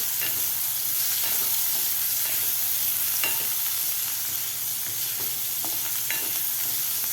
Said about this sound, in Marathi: आता कांदासुद्धा आपल्याला एक मिनिटभर चांगला परतून घ्यायचा आहे